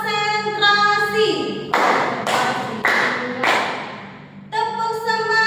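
Classroom of primary school pupils doing the tepuk semangat rhythmic clapping ice-breaker, several loud bursts of group clapping in a steady rhythm, with children's voices between the claps.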